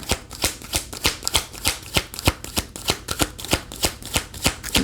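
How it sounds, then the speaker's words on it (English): Tarot cards riffle and slap in rapid, regular bursts during shuffling, close and crisp, about a dozen evenly spaced strokes with no talking. "I'll do 3 shuffles."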